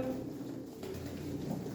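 Pigeons coo steadily up close at a live bird auction, birds from Kızıltepe, Mardin, their low repeated calls layered with soft background clatter and no talk.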